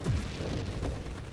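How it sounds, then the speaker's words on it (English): A broad, rumbling blast in the space shooter game Nova Drift, filling the low end with a dense roar that holds steady for over a second, with no speech over it. "I blinked right into that explosion."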